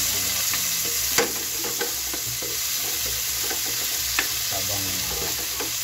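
Tomatoes for binagoongan sizzle steadily in a pan, with a continuous frying hiss broken by a few sharp scrapes and taps from stirring.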